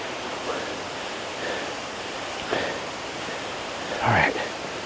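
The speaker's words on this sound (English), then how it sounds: "You can hear the water." A waterfall near Cali, Colombia, heard from a hiking trail as a steady, soft rushing hiss of distant water, with brief louder moments from nearby movement or voices.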